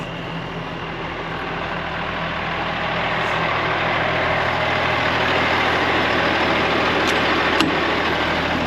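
Volvo 6x6 truck engine idling, a steady low heavy rumble with a constant hum that swells slightly and then holds, close and loud with no voices.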